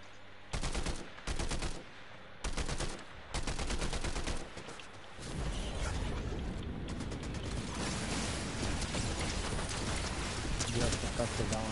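Video game gunfire: several short bursts of rapid automatic fire cut in and out, then give way to a continuous loud clatter of shooting and mechanical noise while a player talks.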